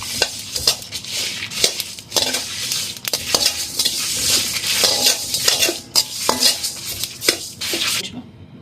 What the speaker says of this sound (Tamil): கொஞ்சமாக சோம்பு நல்லா கருகணும் வதக்கிக்கணும்